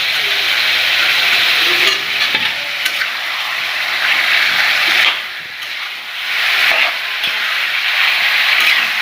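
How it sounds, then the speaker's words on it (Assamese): Potatoes frying in a pan during chicken pulao preparation: loud, continuous close sizzling and hissing with stirring scrapes, dipping briefly in the middle, no talking. "অলপ সময় ভাজি ল'ম"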